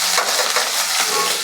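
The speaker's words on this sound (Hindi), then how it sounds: "अब इसको ये हमारा तेल गर्म हो चुका है। अब इसमें हम तड़के को डाल देंगे" Onion, garlic and chili tempering dropped into hot oil for a rustic-style chicken curry, giving a steady, close hiss of frying with faint stirring throughout.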